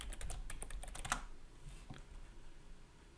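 Rapid clicking of computer keyboard keys as a password is typed, a quick burst of close, crisp keystrokes in the first second and a half, then a few sparse taps over a quiet room hum.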